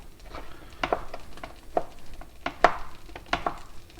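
A knife cuts through food on a board for a maple syrup omelette, striking in several sharp, close chops spaced irregularly over about four seconds, with no voices.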